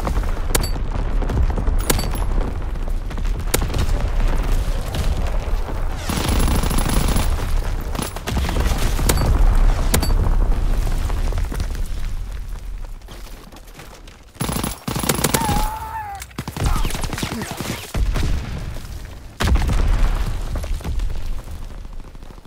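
Artillery battery firing in Call of Duty WWII, a loud, dense, continuous barrage of booming blasts and rattling gunfire that swells and dips over the whole stretch with no voices.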